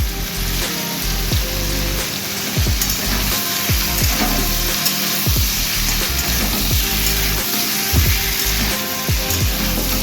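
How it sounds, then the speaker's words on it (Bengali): Asafoetida and spices fry in hot oil while being stirred for a potato curry, producing a loud, continuous crackling sizzle up close, dotted with popping spatters and soft stirring scrapes. "দেখো বন্ধুরা একটু নাড়াচাড়া করছি কেমন"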